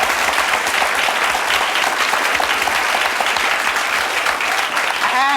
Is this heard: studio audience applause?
yes